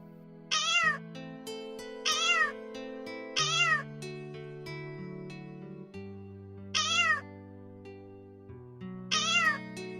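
A kitten meows five times in slow, evenly spaced cries over a soft sustained musical accompaniment with no talk.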